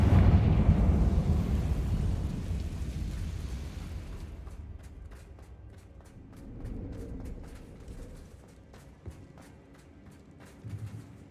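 Explosions from the Bombarda and Confringo spells in a video game: a loud, deep rumbling blast fills the first few seconds, then fades into a quieter stretch with scattered crackles and small thuds.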